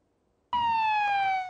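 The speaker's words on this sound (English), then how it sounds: "shows an ambulance rushing through the streets and homes" Ambulance siren during fighting in Syria, a loud steady electronic wail starting abruptly after a moment of near silence and holding a slightly falling tone to the end, with no voices.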